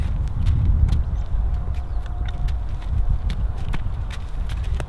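Hooves of a slow mare walking on a lunge line, an unhurried irregular clip-clop of steps close by over a low rumbling background, with no talking.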